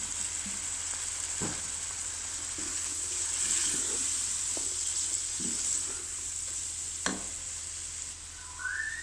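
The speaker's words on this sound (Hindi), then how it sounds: "अब मैं इसमें सोया सॉस ऐड कर रही हूँ, तकरीबन 2-3 टेबलस्पून" Soy sauce goes into a hot pan while cooking Chinese-style rice, producing a continuous, fairly loud frying hiss with occasional scrapes and small clatters of a utensil close by.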